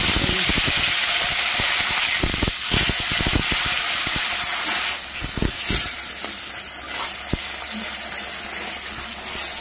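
Radhuni spice tempering sizzles loudly and steadily in hot oil in a wok, with a few stirring clatters and the sizzle easing slightly toward the end, with no speech.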